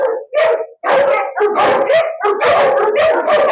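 A dog barks and howls loudly and close by in rapid bursts, about eight separate yelps and barks with a brief gap near the start, no talk.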